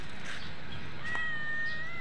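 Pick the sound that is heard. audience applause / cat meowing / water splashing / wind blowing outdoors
cat meowing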